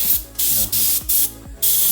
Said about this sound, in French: L'aérographe c'est ça, c'est un pistolet à peinture miniature qui permet de faire des traits hyper fins.